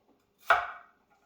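A single knife chop through an onion, cutting it into quarters on a board, one crisp close thump standing alone in quiet.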